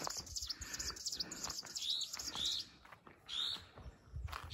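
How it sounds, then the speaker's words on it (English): Birds chirp in an evening village, with several bright repeated tweets and calls over a soft outdoor background, moderately near and fairly quiet, with no speech. "Beautiful birds."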